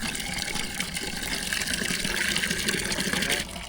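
Water gushes from a village hand pump, a continuous close splashing flow that stays loud and steady throughout, ending with a slight drop near the end.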